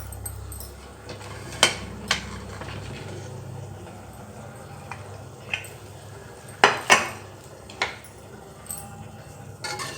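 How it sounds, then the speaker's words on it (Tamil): A pressure cooker lid being opened in a home kitchen after the pressure is released, giving a few sharp metallic clanks and clicks of lid and pot, close by, with quiet gaps between them and no talking. "இப்போ குக்கரை ஓப்பன் பண்ணிக்கலாம்."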